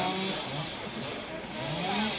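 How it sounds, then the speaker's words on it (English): A chainsaw cutting a street tree drones steadily throughout, rising and falling slightly in pitch, at close range. "They're operating a chainsaw"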